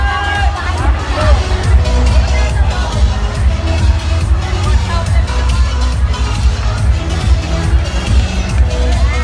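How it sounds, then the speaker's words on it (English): A college audience applauds and cheers loudly for a guest speaker, a dense sustained roar of clapping and crowd noise throughout. "Again, a round of applause to our speaker"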